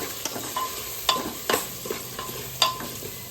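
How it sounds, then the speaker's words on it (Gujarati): Raw spices, turmeric and salt get stirred into a sizzling tempering for Kathiyawadi vagharelu khichdi, the hot oil hissing under sharp, irregular spoon scrapes and clinks against the pot, close up with no talking. "કાચો મસાલો બધો જ અમે મિક્સ કરી દઈશું"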